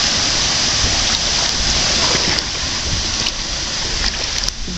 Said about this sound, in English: I can hear it. It's entering this waterfall zone.